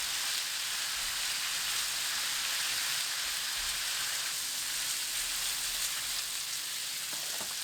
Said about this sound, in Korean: 삼겹살을 완전히 익혀주세요